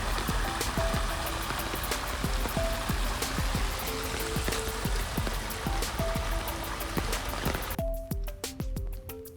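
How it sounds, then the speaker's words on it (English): Steady rain falls outdoors in Japan's rainy season, a continuous close patter with scattered drips and trickles that thins out near the end. "it's raining."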